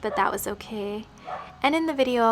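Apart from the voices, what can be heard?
dog barking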